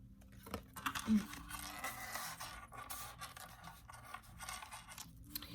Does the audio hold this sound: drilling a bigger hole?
no